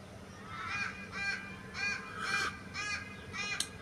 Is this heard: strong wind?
no